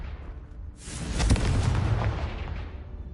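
A Confringo fire spell blast in Hogwarts Legacy erupts as one loud, broad boom with a crackling, rumbling tail that slowly fades over a few seconds. A low background hum sits underneath.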